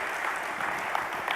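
A crowd at a presentation claps in a brief, steady burst of applause that fills the moment, with a few sharper claps standing out.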